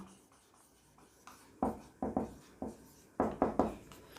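Marker or chalk writing an equation on a classroom board, a series of distinct close scratchy strokes in an irregular rhythm that grow louder and quicker toward the end, with no talking over them.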